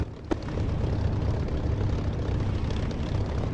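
Propeller aircraft engine in the DCS flight simulator game throttling up for takeoff on a damaged wing, a steady loud low roar that holds level throughout, with one sharp knock near the start.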